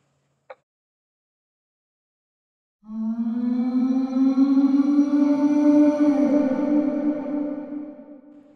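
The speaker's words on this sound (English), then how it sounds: "That was the call of the zombies." A zombie call sound effect on a ghost train ride: one short click, then a long, loud, groaning drone with layered overtones that swells for about six seconds and fades out. No talking.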